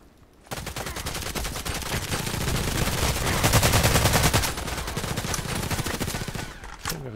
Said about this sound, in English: I guess those 10 shots are definitely super fast